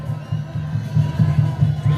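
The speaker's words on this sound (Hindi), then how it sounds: "दोनों टीम के खिलाड़ियों को आप लोग तालियों से स्वागत करें" Crowd cheering and applauding at a local football match in Dumka, India, steady and fairly loud, with pulsing swells of noise across the whole stretch and no clear speech over it.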